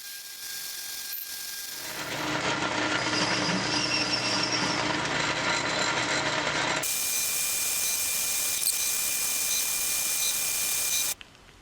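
A metal lathe cuts a thread in steady passes timed on the threading dial, giving a continuous close mechanical whir and gear rattle that swells after a quieter start, then cuts off abruptly near the end.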